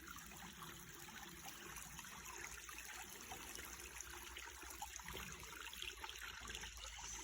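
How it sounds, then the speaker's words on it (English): A small creek on a homestead trickles faintly and steadily, a soft continuous watery hiss heard from a short distance with no voices. "here's our gorgeous little creek."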